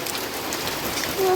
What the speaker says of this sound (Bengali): কি অবস্থা জোরে বৃষ্টি